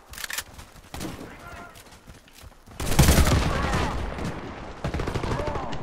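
Rapid gunfire from the shooter video game Warface, bursts of shots and a dense volley growing louder midway, with someone talking over the game action.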